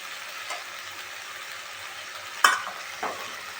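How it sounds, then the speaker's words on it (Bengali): Spices frying in plenty of oil for a rohu fish curry, a steady soft sizzle with a couple of sharp stirring scrapes against the pan, close and alone. "এটা ভালো করে কষে নিতে হবে লাল।"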